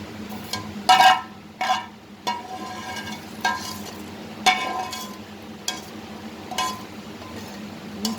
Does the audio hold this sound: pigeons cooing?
no